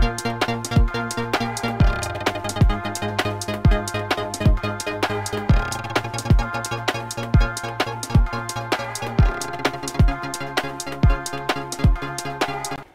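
Electronic rave-style drum loop in Ableton Live, a punchy kick running through a drum bus with an added sub bass layer, steady four-on-the-floor hits with bright percussive ticks and sustained tonal bass beneath, loud and alone.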